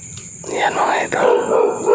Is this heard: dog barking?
yes